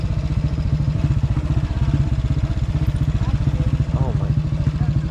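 A motorcycle rides across broken bridges in the Caribbean, its engine chugging in a steady, rapid low pulse that stays loud and close throughout, with a brief voice near the end.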